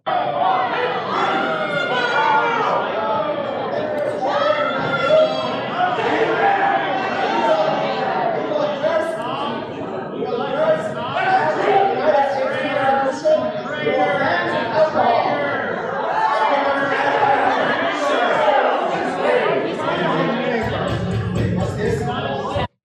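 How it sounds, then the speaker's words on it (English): A large crowd loudly boos a speech about changing the United States Constitution with a mosque, a sustained wash of jeering voices and shouts that continues throughout. "And the people booed."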